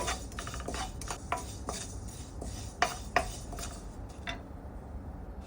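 White sesame seeds roasting in a pan over medium flame, with a steady low sizzle and scattered light clinks and taps of a spoon or utensil against the pan, fairly close, no talk.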